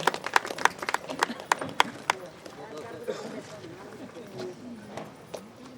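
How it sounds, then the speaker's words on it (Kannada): Audience clapping at a pyramid meditation group's fourth anniversary program in Swanth Colony, Ballari: a burst of sharp, close claps in the first two seconds, thinning into scattered claps under a speaking voice. "ಜೋರಾಗಿ ಚಪ್ಪಾಳೆ ಹೇಳೋಣ"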